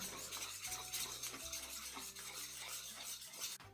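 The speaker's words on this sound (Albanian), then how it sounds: "Tani përzijemi mirë që të sigurohemi që do të fitojmë një çullë të mirë, pa grutka." Repeated scraping and swishing of a utensil stirring thick batter in a bowl, rhythmic strokes at close range with no voices.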